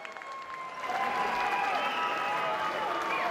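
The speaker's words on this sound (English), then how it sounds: "can we please have a round of applause for what a war we have just seen?" A boxing crowd applauds and cheers after a twelve-round fight, a steady roar of clapping that builds and holds in a large arena while an announcer's voice and other voices carry over it.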